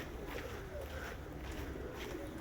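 Several pigeons murmur and coo inside a loft, low rolling calls overlapping softly and continuously against a faint ambient hiss.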